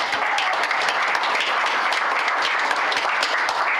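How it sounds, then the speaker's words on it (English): Audience at a veterans wall dedication at Independence Village applauding the mothers, a dense, steady round of clapping held at even loudness throughout. "You deserve a big round of applause."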